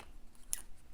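A single quick snip of scissors cutting a tiny paper piece for a junk journal, close and quiet, with a brief crisp cut in otherwise near-silence.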